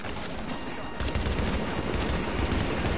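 Light machine gun fire in the video game The Division, a dense, continuous burst of rapid gunfire that grows louder after the first second and runs steadily to the end.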